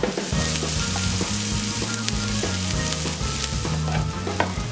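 Onions and peppers fry in a pan, a loud, continuous close-up sizzle and crackle over a steady low hum, with no voices.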